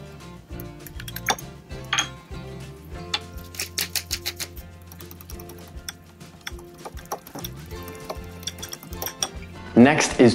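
Butter, sage and maple syrup being mixed into a paste, with close, irregular scraping and clinking of a utensil against a bowl, in bursts of taps and knocks, louder clattering at the end.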